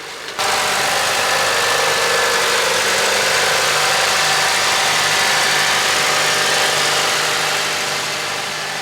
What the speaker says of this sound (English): the Honda sounds pretty smooth as silk as well